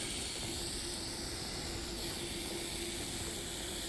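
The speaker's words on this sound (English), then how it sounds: "The fizzing noise." Fizzing from an opened can: a steady, soft, close hiss of escaping carbonation runs without a break, with no talking.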